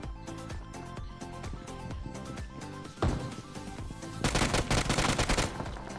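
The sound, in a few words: gunfire from UMP 45 in a battle royale video game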